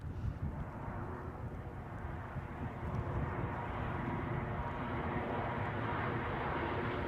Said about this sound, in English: Next in is a Ryanair from Madrid